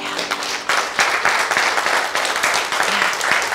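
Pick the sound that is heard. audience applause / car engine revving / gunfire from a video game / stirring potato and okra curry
audience applause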